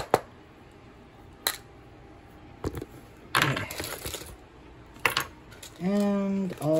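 Loose screws dropping into a clip bin, landing as several separate sharp metallic clinks and rattles spread irregularly over a few seconds, ending with a brief tonal squeak.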